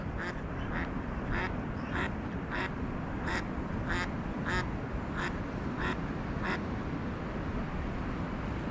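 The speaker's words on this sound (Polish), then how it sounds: "Kaczki się śmieją." Ducks quack repeatedly in short bursts at a fishing spot over a steady, loud background rumble, like running water or wind.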